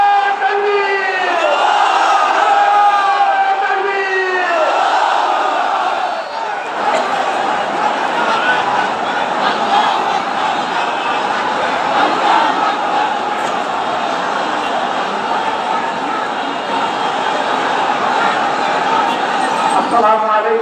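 A huge outdoor political rally crowd of an Islamic party gathering in Bangladesh roars a chant in reply to a takbir call. Loud massed voices swell and sustain, with a leading shout near the start and a dense crowd roar throughout.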